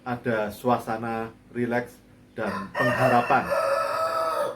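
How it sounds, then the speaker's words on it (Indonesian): A neighbour's rooster crows outdoors in the background while someone talks steadily over it, the calls partly masked by his voice. "Dan ini ada ayam tetangga yang berkokok"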